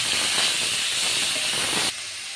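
Malabar spinach fruit stir-frying in a pan, a loud, dense, steady hiss of frying that drops abruptly to a quieter sizzle near the end.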